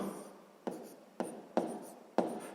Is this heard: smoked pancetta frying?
no